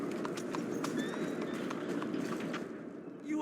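Horse hooves from the video game Red Dead Redemption 2 pound in a quick, steady running clip-clop, close and clear, with faint ambient noise behind.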